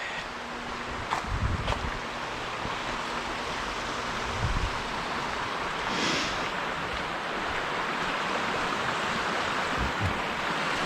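Water rushing out of the outflow of a small generating station at Bridal Veil Falls, Kagawong, a steady broad roar of churning water under light wind, with no voices.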